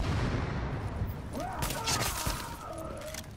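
Gunfire in Tom Clancy's The Division, a muffled volley of shots and mechanical clatter at moderate distance, with a voice speaking over it.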